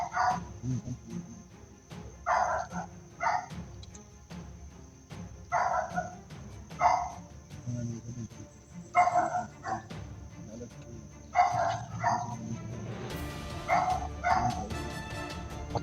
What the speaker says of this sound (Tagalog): Mag-iingat kayo. Parang kasama nila tong aso.